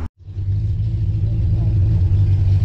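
A white Fox-body car with black SVT wheels rumbles past after a brief pause, its engine a loud, low, steady drone close by, no speech over it.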